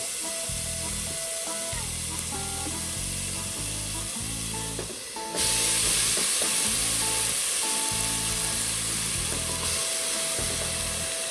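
Chopped onions hit a hot pot on high heat for Brunswick stew, setting off a steady, loud sizzle that swells as they land, with faint stirring scrapes and a rhythmic low background pulse.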